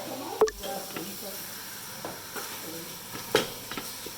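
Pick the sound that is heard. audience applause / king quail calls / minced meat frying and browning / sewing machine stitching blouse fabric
minced meat frying and browning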